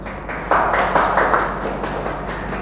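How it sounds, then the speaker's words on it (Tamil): Audience applause at a Tamil literary gathering, a steady patter of many hands clapping together, moderately loud and sustained for a couple of seconds with no voices over it. "கைத்தட்டுங்கள் ப்ளீஸ்."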